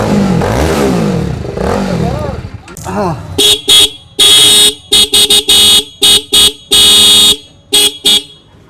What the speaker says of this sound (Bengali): ডুয়েল হর্ন ব্যবহার করা হয়েছে যথেষ্ট পরিমাণ লাউড